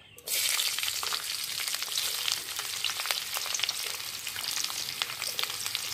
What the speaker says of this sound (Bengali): এখন আমার এই ক্যাপসিকাম আর পেঁয়াজটা শর্টের মতো হচ্ছে বন্ধুরা